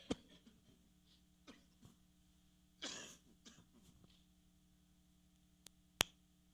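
One sharp cough breaks a quiet church, with a few faint clicks and taps scattered before and after it.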